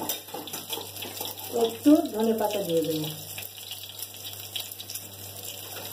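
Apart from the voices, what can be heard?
pouring water into curry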